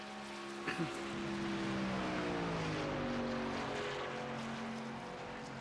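Simulated race car engines at Talladega superspeedway in the iRacing game drone at high revs, their pitch slowly sliding as cars pass. The sound is steady and moderately loud, with a brief blip near the start.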